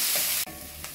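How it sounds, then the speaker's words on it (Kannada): Onion frying in a new kadai gives a close, bright hiss that breaks off sharply partway through, then settles into a quieter sizzle. "ಈರುಳ್ಳಿ ಫ್ರೈ ಆಗಿದೆ"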